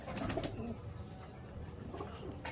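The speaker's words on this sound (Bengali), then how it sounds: "এগুলো হলো ভাইয়ার ফ্লাইং এর কবুতর" Flying pigeons kept for training coo softly at close range, low murmuring calls rising now and then over a steady background hum, with no talking.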